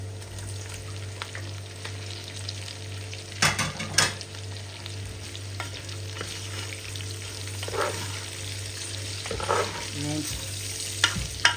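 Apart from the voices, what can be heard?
meat frying in a pan for adobo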